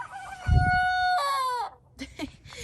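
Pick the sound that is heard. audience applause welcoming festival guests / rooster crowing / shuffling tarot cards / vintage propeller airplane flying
rooster crowing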